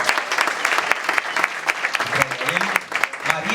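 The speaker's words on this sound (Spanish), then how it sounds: "vamos aplaudir o Senhor" An audience at a church gathering applauds loudly and continuously, dense clapping filling the space while a voice speaks over it in the second half.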